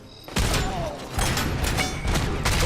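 Burst-fire handgun shots in the RoboCop video game, with three loud, close clusters of rapid shots starting abruptly, each separated by brief pauses, over a rumbling, mechanical game background.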